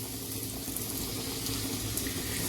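Boiled kabuli chickpeas tumble slowly into a pan of hot spiced oil, a steady close wet rushing and sizzling hiss that continues without pause.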